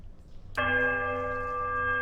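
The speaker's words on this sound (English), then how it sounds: "The bell sounds a strange, warbling peal that grows to a painful shrillness before diminishing to a mournful chime." A church bell in the fantasy game Pillars of Eternity strikes once, loud and close, with a bright metallic onset and a rich, sustained ringing tone that hangs steadily without fading.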